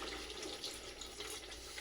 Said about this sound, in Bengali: আমি অল্প করে পানি দিয়ে দিব